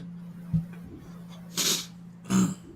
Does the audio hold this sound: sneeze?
yes